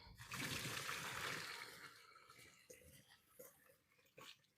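Cooked lo mein noodles pour into a strainer as water rushes and drains off, a soft splashing gush that fades into scattered trickles and drips, fairly quiet.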